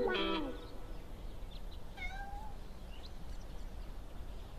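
A cat gives one short, loud meow right up close, followed by quieter background noise with a few faint chirps and no speech.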